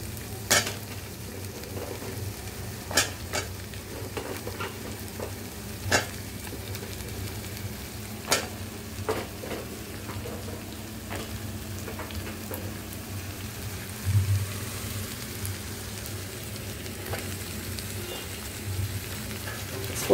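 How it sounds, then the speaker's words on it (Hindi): Ridge gourd and potato pieces fry and get stirred in a pan: a soft, steady sizzle with scattered scraping clicks and taps from the spoon, no voice. "इसमें फ्राई कर लूँगी, ताकि पटेटो जो है पक जाए"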